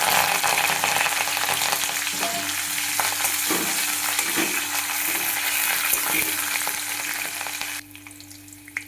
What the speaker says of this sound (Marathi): तर आता आपण कढीपत्ता घालून घेणार आहे.